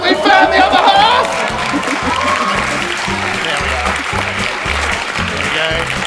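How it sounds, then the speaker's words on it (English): After a card magic trick, an audience breaks into lively applause with some cheering. A voice speaks over the start, and then the clapping carries on dense and loud, with a rhythmic thumping underneath. "Give her a round of applause!"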